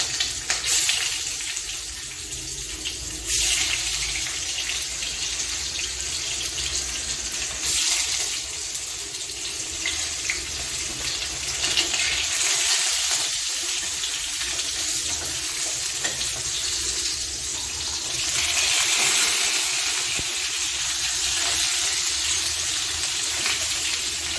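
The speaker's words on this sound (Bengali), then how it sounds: "তো তেল তো আমার গরম হয়ে গেছে এবার আমি একটা একটা করে পনির ভাজতে দিয়ে দিলাম" Paneer pieces frying in hot oil make a steady, dense crackling sizzle that runs close and continuously, swelling slightly now and then, with no voices.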